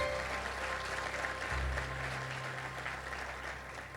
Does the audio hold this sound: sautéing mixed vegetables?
no